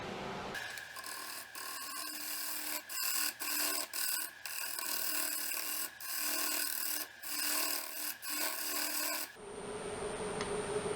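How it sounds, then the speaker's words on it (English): A negative rake cutter on a large turning tool scrapes a spinning cottonwood bowl on a lathe, a steady close rasping with several brief breaks, then stops and leaves only a thin motor whine. "I put the negative rake version of the cutter on my larger tool here."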